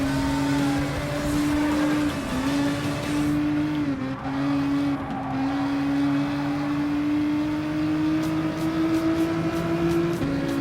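Race cars in Gran Turismo Sport, including a Nissan GT-R Gr.4 and a Porsche Cayman, with a loud, steady engine drone that holds a sustained pitch, dips briefly and then climbs again over constant tyre and track roar, with no talking.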